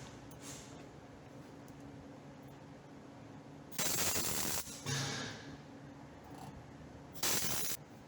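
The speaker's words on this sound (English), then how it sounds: "we're installing some really nice plug welds" Plug welding on the lower valance of a 1968 Dodge Charger R/T, with two loud crackling bursts of arc welding, each about a second long, over a quiet shop hum.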